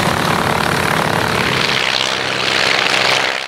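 A vintage de Havilland-style Chipmunk military trainer passes by at an air show, its propeller engine a loud, continuous droning roar that holds steady and then begins to fade.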